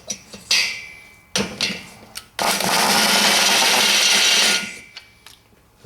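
Fine stone grinding a VW valve seat, several short buzzing bursts followed by one sustained grinding whir of about two seconds, close and fairly loud with no talk.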